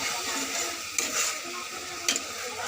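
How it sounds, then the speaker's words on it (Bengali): Spice paste with potatoes and sugar being sautéed in a pan for a Bengali dal dhoka dish, a steady close sizzle with a couple of brief scraping stirs. "চিনি দিয়ে আলুটা দিয়ে এবার মশলাটাকে কষাচ্ছে।"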